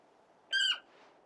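A single loud, harsh bird squawk in Final Fantasy XVI, a brief shrill cry of about a quarter second over a quiet background.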